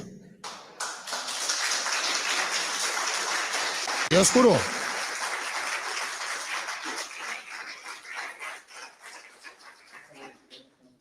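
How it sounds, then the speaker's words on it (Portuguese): A church congregation applauds in a standing ovation after a healing testimony, sustained broadband clapping filling the room for several seconds beneath a preacher's voice, then gradually thinning out toward the end. "É para aplaudir de pé, igreja."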